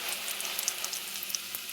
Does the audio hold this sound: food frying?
yes